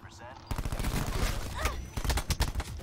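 Rapid automatic gunfire in the multiplayer shooter Call of Duty Black Ops 4, a dense stream of shots erupting after a half-second lull and continuing loudly with a few separate bangs near the end.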